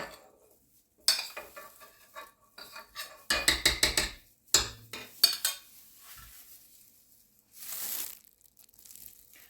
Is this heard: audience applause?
no